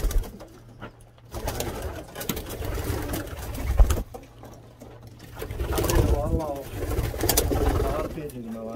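Blue bar Sion pigeons cooing in a breeder's loft, repeated soft low coos close by, mixed with rustling and voices talking over them.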